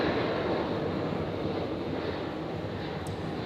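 An airliner takes off from a Brisbane airport runway on a stormy night, producing a steady, loud broadband jet roar that holds evenly for several seconds with no voices.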